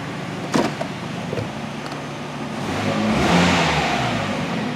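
Hyundai Elantra engine running at idle with electrical loads switched on during an idle relearn, a steady mid-pitched hum that rises slightly midway, with a couple of clicks and a knock early on.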